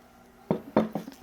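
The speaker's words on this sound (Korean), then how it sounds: "한모 전체 다 썰어 볼게요" A whole block of tofu being sliced with a knife for pork kimchi stew, three or four soft, close thuds of the blade meeting the cutting board after a quiet start.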